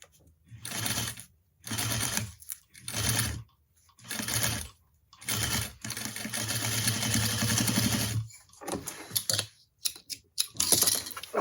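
A sewing machine stitches a zipper onto drapery fabric in repeated bursts of rapid mechanical clatter, separated by short pauses, with one longer continuous run in the middle.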